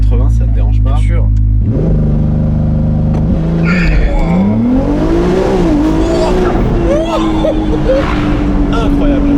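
A Ferrari 296 GTS revs and launches hard from a standstill up to about 80 km/h, its engine note climbing loud and close through rising gear pulls, while people inside talk and react over it.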